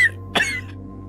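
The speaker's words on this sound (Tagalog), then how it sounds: "inuubo ka na naman" A single sharp cough from an elderly man, with a brief throat-catching tail, set against a low steady hum in a quiet indoor room.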